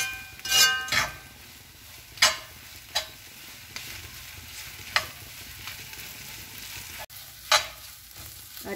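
Roti pieces for kottu parotta fry with half-cooked egg, a steady sizzle broken by several sharp spatula scrapes and clinks at irregular intervals, with no talking.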